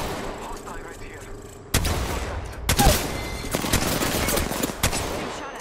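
Rapid automatic gunfire from a match of the video game Apex Legends Arenas, Season 15: dense close bursts that start suddenly and continue steadily, with a character's voice calling out under the shooting.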